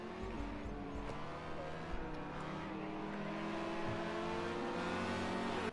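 A McLaren race car at a time attack session at Oulton Park accelerates hard at full throttle, its engine note climbing steadily and loud for several seconds with layered harmonics.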